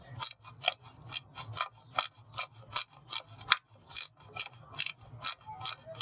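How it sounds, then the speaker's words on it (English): A 13mm ratchet wrench tightens the power steering belt tensioner on a 2001 Chrysler LHS, giving a steady run of about fourteen crisp, close ratcheting clicks in an even rhythm. "I'm going to take a 13mm wrench. And we're going to tighten it."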